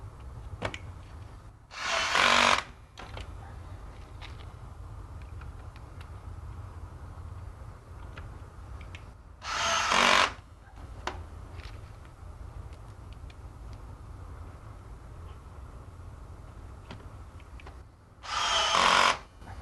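A power drill with an extension bit drives screws into aquarium brackets during Red Sea MAX S assembly, three short whirring bursts spaced several seconds apart over a low background hum.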